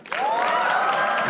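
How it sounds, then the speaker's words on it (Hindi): A comedy roast audience breaks into applause and cheering for Saurabh Pandey, starting abruptly and holding steady and loud, with whoops and shouts over the clapping. "सौरभ पांडे के लिए तालियां हो जाए एक बार"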